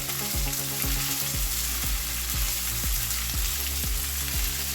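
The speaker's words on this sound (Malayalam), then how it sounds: "ഇനി നമുക്കതൊന്ന് നല്ല ബ്രൗൺ ആയിട്ട് വരുന്ന വരെ നമുക്ക് നിന്ന് വഴറ്റിയെടുക്കാം." Ingredients for a Kerala chicken curry are sautéed until brown in a pan, a loud continuous sizzle with regular scraping strokes of a spoon about twice a second, no talking.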